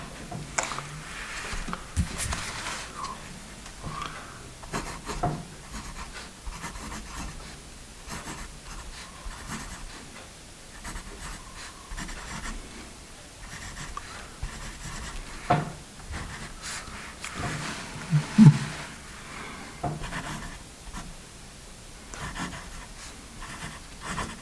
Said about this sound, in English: We'll do a little bit more writing with our first Ticonderoga here.